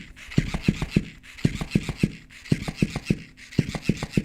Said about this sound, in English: the lobster does give off a bit of noise when it starts flopping